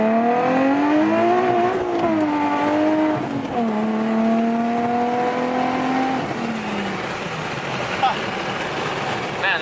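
A supercharged Stillen Nissan 370Z engine revs loudly up and down through quick rev-matched downshifts, the pitch dropping and rising in steps with the engine close by, and people talk underneath.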